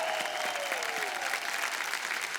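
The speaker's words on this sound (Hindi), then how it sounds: "जोरदार तालियां मीनल जी के लिए और प्रांजल जी के लिए।" Studio audience at a family game show clapping for two contestants, a dense, steady burst of many hands close up, with a faint voice trailing off at the start.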